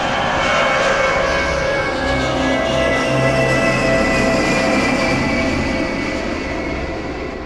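Steady roar of an airplane engine cruising at 20,000 feet, used as a radio drama sound effect: a loud, continuous droning hum with a low rumble, unbroken and slowly fading slightly toward the end.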